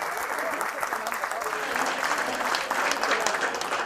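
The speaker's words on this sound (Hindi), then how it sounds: "जोरदार तालियां होना चाहिए सबके लिए।" Group clapping at a leaders' training session, a continuous dense patter of many hands held at an even level for several seconds, with some crowd noise mixed in.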